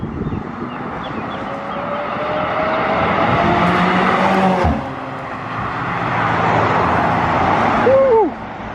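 A McLaren Senna hypercar climbs a road in Monaco, its engine note rising loudly as it approaches and passes close by, then fading before another surge of revs at the end.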